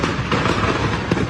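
Fireworks and firecrackers crackle and pop in a dense, continuous barrage after a car crashed into a fireworks store, with sharp bursts layered over a rumbling background throughout the short stretch.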